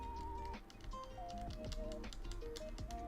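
Quiet typing on a keyboard with smooth linear switches, a steady patter of keystrokes under soft background music.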